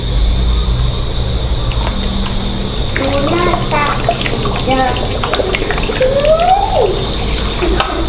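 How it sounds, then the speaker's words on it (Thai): Water from a marinating basin is poured into a pan of marinated pork as it cooks, giving a steady splashing, running-liquid wash, while voices, including a child's, talk over it close by. "ใส่น้ำเข้าไป น้ำที่อยู่ในกระมังหมักหมูนี่แหละ ผสมลงไป"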